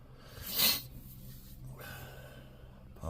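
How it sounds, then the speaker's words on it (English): A single sharp, close nasal sniff from a stuffed-up nose, followed by quiet breathing and faint room noise, with another sniff beginning at the end. "Apologize for the sniffles"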